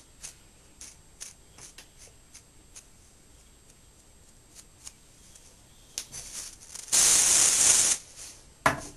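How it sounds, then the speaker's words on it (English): A sustained hiss of hairspray sprayed onto a synthetic wig lasts about a second, with faint rustling and light ticking handling noises before it and a short spray burst after. "the best friend for your synthetic wig is going to be a nice holding hairspray"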